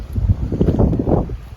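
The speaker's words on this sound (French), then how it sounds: "il y a un petit peu de vent" Wind gusts buffet the microphone in a May vegetable garden among borage plants, a rumbling, uneven rush that swells and eases over a couple of seconds.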